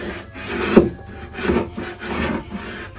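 Repeated rasping scrapes of a tool dragged across a wooden sideboard, removing chalk paint in uneven strokes, close up, with no talking.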